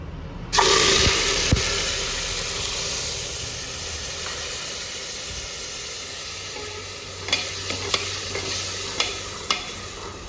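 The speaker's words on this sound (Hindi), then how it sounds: "अब लगा देती हूँ मैं तड़का।" A tadka is poured into a pan of aloo papaya curry with onion-garlic paste and spices, setting off a loud, continuous close sizzle with a few light utensil clinks near the end.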